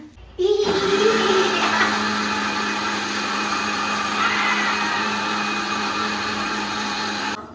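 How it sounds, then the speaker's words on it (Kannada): A kitchen mixer grinder whirs loudly and steadily as it grinds chilli and coriander into a spice paste, starting abruptly and holding an even motor drone with faint rattling. "ರುಬ್ಕೊಂಡು ಬರ್ತೀನಿ. ಇಷ್ಟು ಐಟಮ್ನ ನಾವು ರುಬ್ಬೋಣ."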